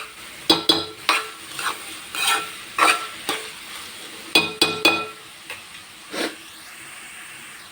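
Salted onions fry in a pan while a utensil stirs them, giving a soft steady sizzle broken by repeated scraping clinks and knocks in an irregular rhythm, close and fairly quiet.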